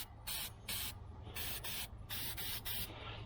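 Rust neutralizer is sprayed onto the body of a 1978 Dodge Aspen R/T before priming, five or six short hissing aerosol bursts in a steady rhythm, close and clear over a low background hum.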